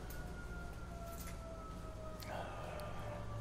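A siren wails faintly inside the Pimp My Ride video game, a thin steady tone over a muffled bed of game sound.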